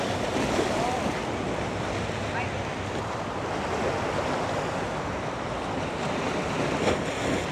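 Ocean waves and breeze on a beach in Brooklyn, New York City: a constant, loud wash of surf and gusting wind buffeting the microphone, steady throughout with no clear talk.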